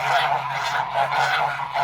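Domestic geese, including Kholmogory ganders, honking in a dense, continuous chorus of overlapping nasal calls, loud and close with no pauses.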